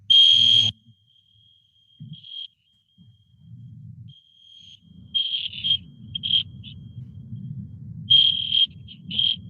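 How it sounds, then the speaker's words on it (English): Fire alarm sounding in a county special magistrate hearing room: a steady high alarm tone opens loudly, then returns in repeated short bursts over low room noise and murmuring voices. "Bear with us, we're going through a fire alarm."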